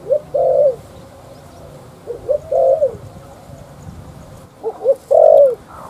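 A pet turtle dove coos in three separate bursts of soft, hollow, rounded notes, each a short phrase followed by a pause, fairly close and alone over faint background hum.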